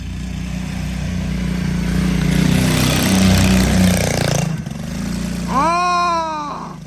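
A mini quad's small engine drones steadily at close range while it slides around in snow. The pitch wavers, then rises in a quick rev near the end, and a voice calls out briefly over the engine.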